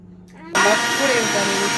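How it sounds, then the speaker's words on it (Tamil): A mixer grinder with cold water in its jar abruptly whirs to life and runs loud and steady, a harsh high-pitched motor drone after a brief quiet moment. "கூலிங் தண்ணி ஊற்றி இதை லைட்டாக ஓட்டணும்."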